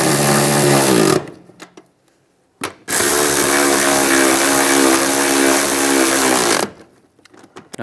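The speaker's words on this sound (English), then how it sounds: "Now we'll tighten these down." Power tool driving and tightening nuts on a 2007-2013 Chevrolet Silverado during EVAP core replacement, two loud sustained whirring runs, the second long, separated by a brief pause.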